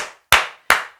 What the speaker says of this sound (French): Si vous êtes arrivé jusque-là, moi je vous applaudis